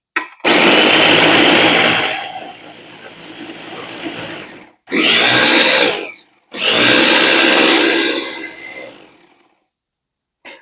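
A small countertop blender chops fresh basil for basil salt in loud whirring bursts. A long first run is followed by a short pulse and another long run, and the pitch steadies once the leaves stop moving much.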